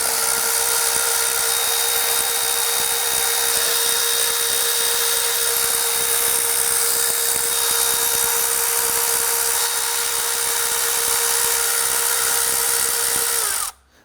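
A power tool whirs steadily and loudly for about fourteen seconds, removing the 8mm intake bolts on a 2010-2019 Ford Taurus 3.5L V6, then stops abruptly.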